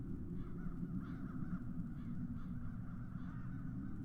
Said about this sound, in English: He sent the crow.